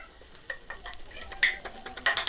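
Five garlic cloves frying in oil in a pan, a low sizzle broken by repeated close spatula scrapes and knocks against the metal in an uneven rhythm.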